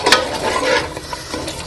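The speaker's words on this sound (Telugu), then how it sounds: "కొంచెం వాటర్ యాడ్ చేసుకున్నామండి యాడ్ చేసుకున్నాక మళ్ళీ కలుపుకుందాం బాగా" A spoon scrapes and stirs a tomato gravy with water for stuffed brinjal curry in a pan, with a soft sizzle under brief, close scraping strokes.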